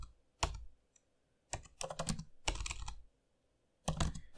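Bursts of typing on a computer keyboard while entering a ChatGPT prompt, close and clear, with clustered key clatter separated by short pauses.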